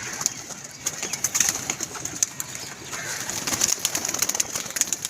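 Teddy pigeons, a male teddy paired with a golden-type female, make soft intermittent cooing and rustling nearby, quiet and irregular, with no talk over it.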